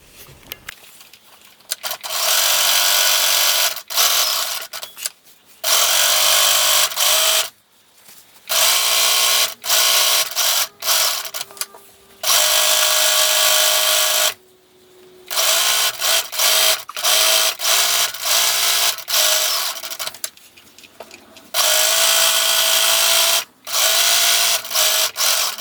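A sewing machine stitches the edge of a fabric casserole carrier with a 1/8 inch seam allowance, running in loud, close bursts of rapid whirring separated by brief pauses.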